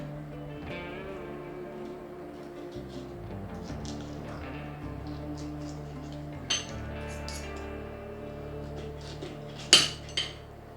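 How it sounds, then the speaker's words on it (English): Knife and fork working on baked tomatoes on a plate, soft scrapes and light clinks of cutlery against the dish, with a couple of sharper clanks near the end over a low background hum. "Let's cut into them and see how they look."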